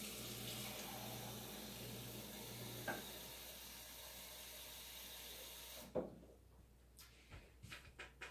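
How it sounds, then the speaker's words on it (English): Water runs steadily into a pan while cornmeal mush is being made, a continuous rushing flow that stops partway through, followed by a few sharp clatters of kitchen handling. "I will put 2 cups of water in the pan."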